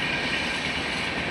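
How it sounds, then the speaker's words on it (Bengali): A train rolls past on a nearby railway line, a loud, steady rumble and rattle of wagons that fills the whole moment without letup, with no talking. "এই যে আমাদের ট্রেন চলে গেল"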